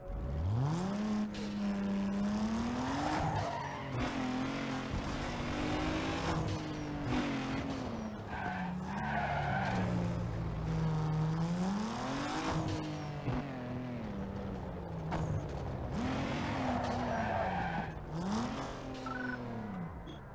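A racing car in Need for Speed Underground 2 during a sprint race, its engine revving loudly and continuously, pitch sweeping up and down through gear changes, with brief scraping tire noise.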